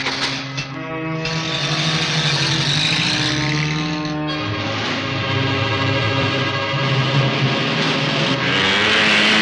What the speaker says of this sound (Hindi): मोटरसाइकिल का पीछा करो, चलिए।